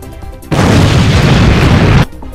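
A loud, sustained explosion blast from a Yu-Gi-Oh duel game as Machina Fortress destroys Red-Eyes Metal Dragon, starting abruptly and roaring for about a second and a half before cutting off.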